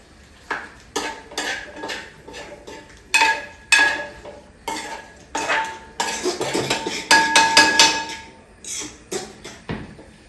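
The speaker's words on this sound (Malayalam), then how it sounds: "ഇടയ്ക്ക് വന്ന് ഞാൻ ഉപ്പൊക്കെ നോക്കിയിട്ട് ഇളക്കിക്കൊണ്ടിരിക്കുന്നുണ്ട്" Chicken curry stirred in a metal pot, irregular clanks and scrapes of a ladle against the pot in bursts, close and loud, with no talking.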